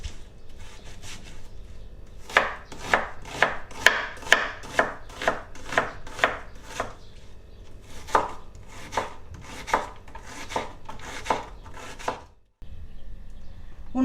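A knife finely chops an onion on a wooden board, quick rhythmic thuds in bursts with brief pauses, close and clear, no talking.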